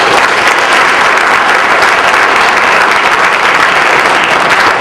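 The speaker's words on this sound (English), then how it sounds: "Give them a round of applause." Dense, sustained applause from a large crowd at a high school fall sports award banquet, loud and steady throughout with no pauses.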